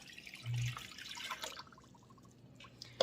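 Two cups of warm water are poured into a bowl of sugar for a recipe, a faint liquid trickle and splash with soft drips, fairly quiet and close.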